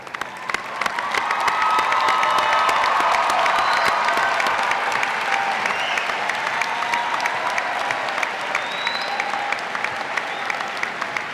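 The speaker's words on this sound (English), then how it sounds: "give those that supported you a big, big round of applause" Graduates at a 2017 undergraduate college commencement give their supporters a big round of applause, loud sustained clapping with some cheering that swells in after a second and carries steadily to the end.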